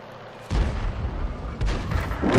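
A Birch Gun self-propelled artillery piece in World of Tanks fires a round, a loud low boom at the half-second mark followed by rumbling battle noise and further dull thuds, with no talk.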